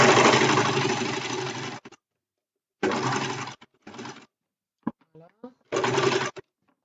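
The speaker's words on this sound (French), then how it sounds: "je couds sur toute ma longueur" A sewing machine stitches along the full length of a piece of fabric in four separate bursts of steady mechanical whirring, close and fairly loud, with short silences between the runs.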